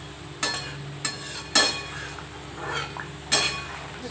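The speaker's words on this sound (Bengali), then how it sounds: "এখন আমি বড়াগুলো দিয়ে দিচ্ছি।" Boras, fried fritters, dropped one by one into a pot of simmering boiled potato curry, giving a few separate clinks and soft knocks of metal and utensils at irregular intervals over a low background hiss.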